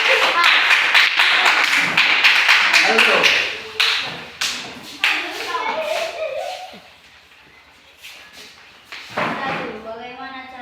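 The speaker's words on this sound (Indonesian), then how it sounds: "Oke, tepuk tangan." Primary schoolchildren in a classroom clapping in a patterned, rhythmic sequence of sharp claps and slaps, with a lively burst first, then spaced claps, a pause, and more; voices chant and speak among them.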